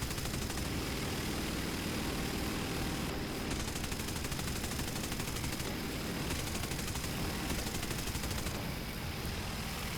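Aircraft tail gun firing during a War Thunder air battle: a dense, steady stream of rapid machine-gun fire over a loud, continuous engine drone, with short gaps between longer bursts.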